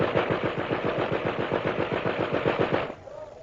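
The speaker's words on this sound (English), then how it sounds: "Machine gun!" Rapid machine gun fire from a radio drama set in Tibet, a steady burst of evenly spaced shots that runs for about three seconds, then cuts off, leaving a faint hum.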